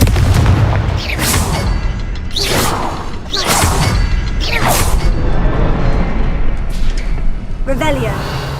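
Repeated booming blasts from the Confringo explosive spell in Hogwarts Legacy, several loud bursts spaced about a second apart with whooshing tails, under a player's voice and game sound.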